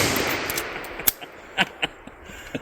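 Gunshots fired outdoors at a corral, a few sharp separate cracks spaced irregularly over a fading noisy background, loudest near the start and middle.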